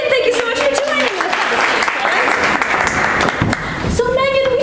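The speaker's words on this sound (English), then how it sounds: "Let's give her a round of applause!" An audience breaks into sustained clapping and cheering for a few seconds, with a presenter's voice heard before and after the applause.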